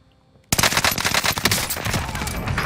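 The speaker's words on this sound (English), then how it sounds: "I'm getting shot at by somebody" Rapid automatic gunfire erupts abruptly in a multiplayer shooter video game, a dense continuous volley of loud shots after half a second of near silence.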